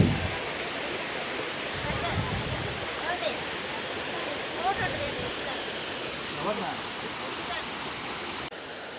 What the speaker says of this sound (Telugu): ఈ రంప వాటర్ ఫాల్ అనేది డిఫరెంట్ స్టేజెస్లో ఉందండి